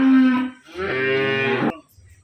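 A dairy cow gives a single loud, drawn-out moo close by on a farm, the low call rising and holding before cutting off into near silence.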